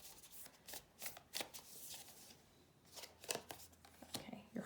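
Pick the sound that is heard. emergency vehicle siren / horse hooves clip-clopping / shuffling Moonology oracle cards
shuffling Moonology oracle cards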